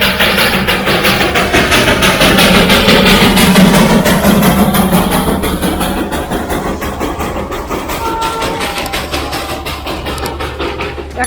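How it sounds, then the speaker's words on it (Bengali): A Darjeeling toy train engine pulls into Batasia Loop, a steady loud rumble of engine and rolling wagons with clickety-clack, holding close and continuous before easing slightly toward the end. "বাতাসিয়া লুপে এখন দেখো টয় ট্রেন আসছে।"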